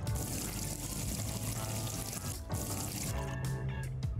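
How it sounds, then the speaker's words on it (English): Water pours into a vessel in a beer-brewing video game, a loud, steady rushing splash that tapers near the end, with no voices over it. "So we need to pour water"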